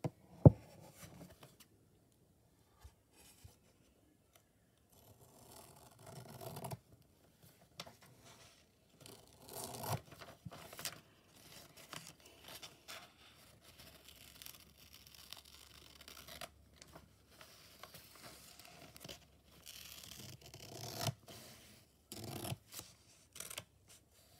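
Scissors cut through paper while making a flower pen, with soft intermittent snips and rustles in short bursts separated by quiet pauses, close and faint.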